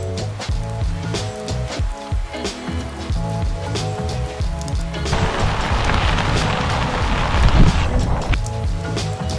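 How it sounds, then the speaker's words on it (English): Rain falling outdoors on a lawn work site with gravel: steady dense patter of raindrops on surfaces, growing heavier midway, mixed with low rumbling and thumping handling noise close by. "the rain's on here and don't want the camera wet"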